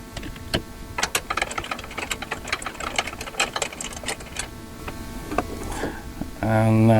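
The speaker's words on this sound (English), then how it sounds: "We'll take our 3/8 ratchet with our 14mm short barrel socket. And we'll go ahead and take the bottom one loose." A 3/8 ratchet with a 14mm short barrel socket loosens the bottom bolt on a CF Moto U-Force 1000, giving close, rapid runs of ratchet clicks in irregular bursts with faint background noise.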